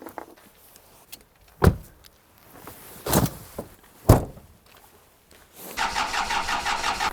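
An old, somewhat broken car's engine cranks in several sharp bursts before catching and settling into a steady running rattle, heard close up from inside the car.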